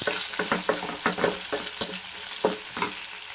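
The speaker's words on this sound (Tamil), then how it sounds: "எல்லாம் போட்டு நல்லா வதக்கணும்" Tomatoes, green chilies and spices sauté in a pan, with a rhythmic series of close spatula scrapes and taps over a crackling sizzle.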